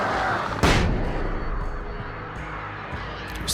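A flashbang grenade bursts in the video game Alan Wake Remastered, one sharp loud blast followed by a long ringing, hissing decay.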